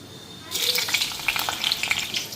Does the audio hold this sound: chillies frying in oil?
yes